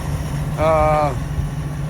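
A Jeep CJ7 engine running on old fuel idles with a steady low rumble, joined briefly by a harmonic whine, with faint speech partly over it.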